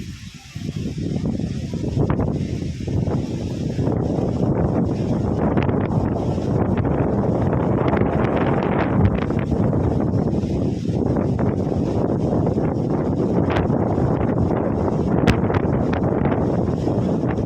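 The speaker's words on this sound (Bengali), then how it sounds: "এত বেশি বাতাস" Strong wind gusting steadily across an open spot in Marseille, loud and continuous throughout with heavy buffeting rumble.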